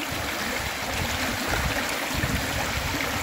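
Water runs through a small stream in a home garden, a close, continuous burbling and trickling with soft low splashes underneath, steady throughout.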